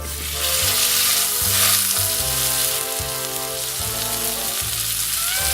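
A single burger sizzles and fries steadily in a pan sprinkled with salt, a loud continuous crackle with a low harmonic hum running underneath, and no voices.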